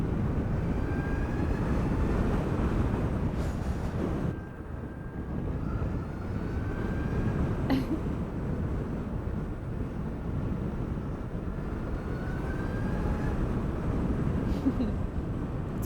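A Zero SR/F electric motorcycle riding along, a continuous broadband rush of road and wind noise with a faint rising whine sweeping through it, steady and close throughout.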